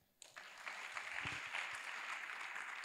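An audience breaks into applause after a brief quiet start, a dense steady clapping that carries on to the end, moderately distant.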